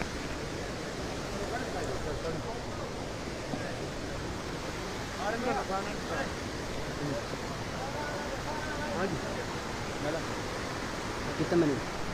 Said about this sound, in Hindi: जो और पानी फ्लो हो रहा है, जो पानी आ रहा है